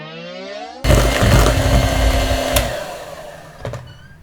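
An electric hand mixer whirs loudly and close as it beats coffee-caramel rum cupcake batter, starting abruptly and running steadily with a brief rattle of the beaters near the end.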